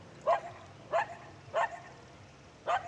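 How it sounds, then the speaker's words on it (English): A dog barks four times at a moderate distance, single yips spaced about a second apart over a low steady background hum. "one dog barking at me"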